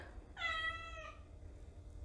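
A cat gives one short, plaintive meow nearby, rising and falling against a quiet room background.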